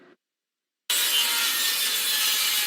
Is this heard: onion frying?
no